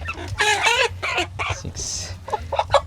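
Chickens cluck and squawk close by while being loaded for delivery in Cebu, several birds calling in quick, overlapping bursts over a low rumbling background.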